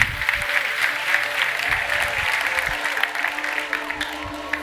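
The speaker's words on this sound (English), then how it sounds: "Give a big round of applause." Keynote audience at a Google AI Day event giving a big round of applause, dense steady clapping that holds throughout and tapers slightly near the end.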